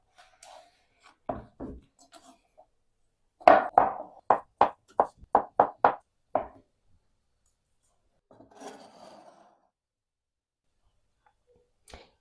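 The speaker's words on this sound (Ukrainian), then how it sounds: "Для початку наріжу кубиком моркву і картоплю." A knife dices carrots and potatoes into cubes on a cutting board. After a few scattered taps comes a quick, even run of about eight crisp chops, close and fairly loud, followed by quiet rustling.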